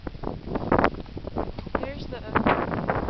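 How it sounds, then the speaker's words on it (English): Gusty wind buffets the microphone outdoors in a backyard, a rough continuous roar under a person speaking. "It's kind of windy, so excuse the wind."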